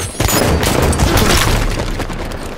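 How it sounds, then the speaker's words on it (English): A grenade explodes in a Halo 5 Big Team Strongholds match on Basin, giving a loud, close, rumbling boom that fills the moment and then slowly fades, with no talk. "Throwing grenade."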